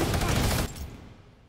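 Burst of SMG fire in the video game Fortnite, a loud dense rattle lasting about half a second before cutting off into quieter ambient game noise.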